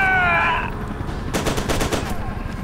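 A rattling burst of rapid automatic blind fire in F.E.A.R. 2, a string of sharp close shots lasting under a second, follows a brief tonal whine.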